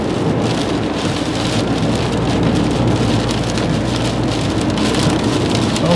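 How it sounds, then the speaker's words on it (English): Heavy rain from a March nor'easter pounds a car driving on a highway near Routes 93 and 3. It makes a dense, unbroken roar of drops with a low road rumble underneath and no voices. "right now it's just looking like a pretty big rain event"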